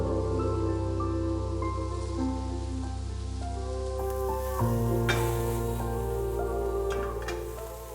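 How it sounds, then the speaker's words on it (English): Onions, garlic and ginger sauté in chili oil in a pan, a steady close sizzle like pattering rain with a low constant hum underneath, alone without talk. "Onions, garlic, and ginger. Saute for a few minutes."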